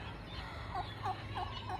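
A turkey gobbles four times in quick, evenly spaced bursts, fairly faint and at a distance over a low background hum, outdoors among goats in rural Misamis Oriental, Philippines.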